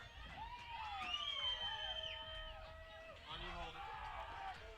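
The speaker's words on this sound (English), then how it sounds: "now you can really hear the Cypress fans getting into it" Cypress softball fans at a college championship game, a crowd shouting and chanting with voices rising and falling in pitch, close by and fairly loud.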